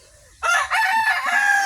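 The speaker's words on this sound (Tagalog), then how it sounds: "Kaya ayan, nag-iingay. Titilaok, may mga manok tayong gumagala." A rooster crows loudly and close by in a backyard, one long drawn-out call that starts suddenly after a brief quiet moment.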